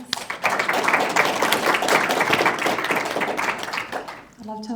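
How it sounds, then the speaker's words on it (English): An audience at a university conference breaks into sustained applause, a dense wash of many hands clapping steadily for about four seconds before it fades out. "Garen, Sally, Justin, another round of applause, please."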